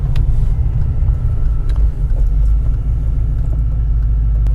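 Supercharged BMW E39 M5 with S62 engine and blow-off valve, heard from inside while driving: a steady, loud low engine rumble fills the cabin throughout with faint higher whooshes on top.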